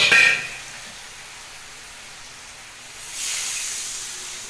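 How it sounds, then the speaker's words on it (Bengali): Water poured into a hot pan of fish curry gives a sharp hiss of sizzling steam that fades quickly, then a second, softer burst of hissing rises and lingers. "এবার মাছের ঝোলের মধ্যে আমি জলটা দিয়ে দিই"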